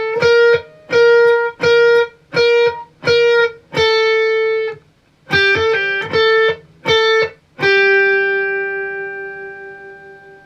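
Electric guitar plays a riff with hammer-ons and pull-offs: a run of clear, evenly spaced picked notes, a short gap, then a second phrase ending on a long sustained note that rings out and fades.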